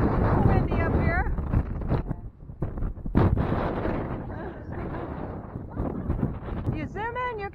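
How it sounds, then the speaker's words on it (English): Wind buffets the microphone on a coastal clifftop at Cape George in western Newfoundland, a steady loud rumble through the whole stretch with someone talking over it. "A little windy up here."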